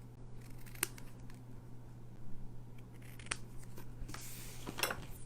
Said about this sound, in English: I'm going to cut it really close